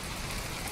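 Steady heavy rain hisses continuously in the video game From The Depths, a dense, loud wash of sound with no voices.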